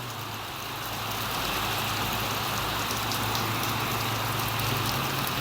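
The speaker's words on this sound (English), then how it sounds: "Arizona either gets a little bit of rain or a whole lot of rain when it does rain." Heavy rain pours steadily during a storm in Phoenix, Arizona, a dense, constant hiss that swells slightly after the first second and then holds loud and even, with a faint low hum beneath.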